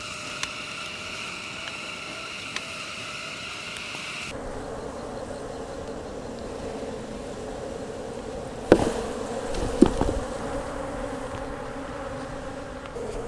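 Honey bees buzzing steadily around an opened hive during a beekeeping inspection, a continuous close insect drone with a change in tone partway through and a couple of brief bumps or knocks near the end.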